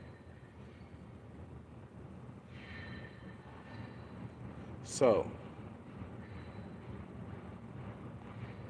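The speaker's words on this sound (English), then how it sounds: "that train is taking a long time to go by." A long train rolls past with a steady low rumble throughout, and a voice breaks in briefly over it midway.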